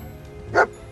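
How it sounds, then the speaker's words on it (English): A single short dog bark from the video game Fallout 4, heard once over quiet background game ambience, close and moderately loud. "Hey, it's a doggy."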